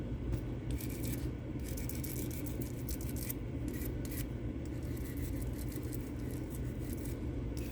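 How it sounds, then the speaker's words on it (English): Sandpaper rubbing steadily across a resin cast made from a homemade silicone mold, a continuous close rasping scrape with slight rhythmic variation and no speech. "if I used rougher sandpaper, it would be a lot faster"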